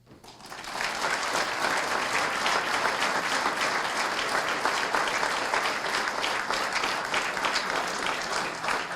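Audience applause at a high school athletic hall of fame ceremony in Hamilton, steady, dense clapping from a large crowd that swells in within the first second and holds at full strength throughout.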